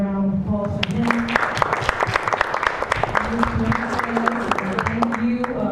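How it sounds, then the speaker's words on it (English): A high school audience gives a round of applause for the school principal at a book club roundtable. Steady, dense clapping fills the room throughout, with a voice speaking over it. "Let's give a round of applause for him."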